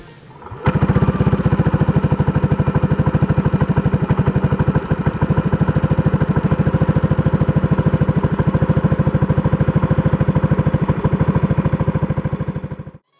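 A Yamaha Aerox 155 scooter fitted with an R25 exhaust starts up and idles with a steady, rapid, loud putter close by for about twelve seconds, then cuts off.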